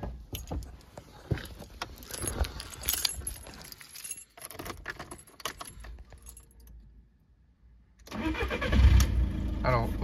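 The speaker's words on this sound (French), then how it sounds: "Et on va démarrer le moteur." Keys jangle and rattle near the ignition, then after a brief pause a car engine cranks and starts, settling into a rumble.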